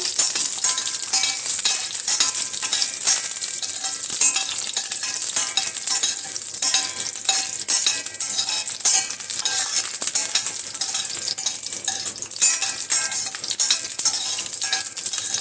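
Brinjal pieces sautéing in hot oil for a brinjal tamarind curry, giving a steady, dense hiss with crackling spatters and occasional stirring scrapes of a utensil, close and continuous with no talk.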